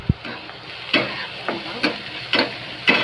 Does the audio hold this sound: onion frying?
yes